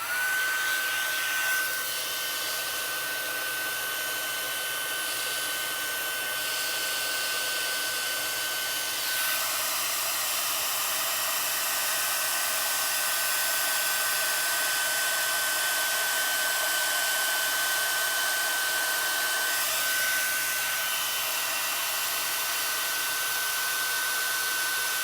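Steady, loud whir of a heat tool blowing continuously to melt embossing powder on a birthday card, with a constant whine and no pauses, alone and close.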